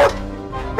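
A dog attacking a burglar breaking into a house barks twice, loud and close, with one short bark at the start and another at the end and a low rumbling growl between them.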